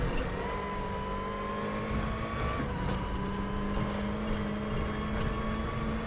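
A WTCC touring car on the Macau circuit in the R3E racing game drones at high revs, a steady sustained engine whine with slowly shifting pitch, loud and continuous throughout.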